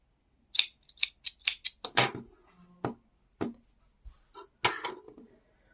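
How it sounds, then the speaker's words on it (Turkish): Scissors snip crochet yarn in a quiet room, a quick series of crisp, close metallic clicks and cuts, several in rapid succession followed by a few slower, isolated snips. "Bu noktada ipimi kesiyorum."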